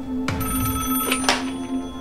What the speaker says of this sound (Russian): Так, телефон звонит.